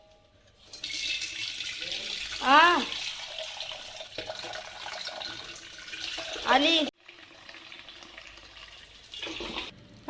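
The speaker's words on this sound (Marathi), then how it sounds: "पाणी टाकते झाडांना." Water pours from a vessel onto potted plants during a Sunday morning routine, a steady splashing hiss with a voice rising over it a few times.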